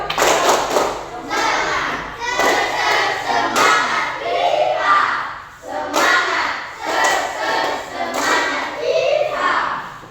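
A group of children stands for a stretching break in a coding and AI classroom lesson, chanting and clapping a rhythmic 'cowboy spirit' routine, loud and close, with repeated bursts of claps and shouted voices in a steady pattern.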